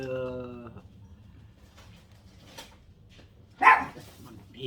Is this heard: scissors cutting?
no